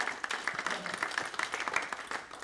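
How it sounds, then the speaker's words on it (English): A crowded audience claps for volunteers in a short, lively burst of applause with uneven peaks, and a few voices murmur faintly underneath. "Let's applaud them."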